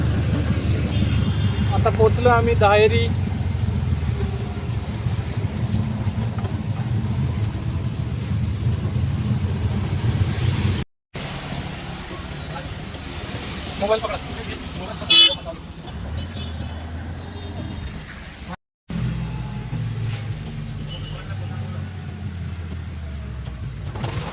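A car cruises steadily along a road, with a constant low engine and road rumble and wind buffeting the microphone, while a person talks over it throughout and a horn toots briefly.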